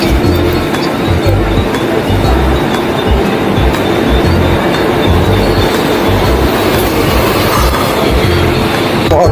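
A Mumbai local train runs at speed with a loud continuous rumble, rhythmic clickety-clack of wheels over rail joints and occasional squeals, heard from inside and close.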